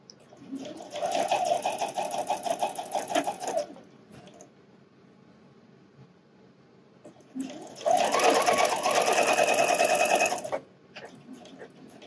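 A home sewing machine stitches down bra dart seam allowances on a wireless bra, running in two steady whirring bursts with a quieter pause between them, close and fairly loud.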